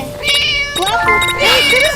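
Cartoonish cat meowing in the horror video game Scary Teacher, several drawn-out meows in a row, loud and close, with game sounds and someone talking alongside.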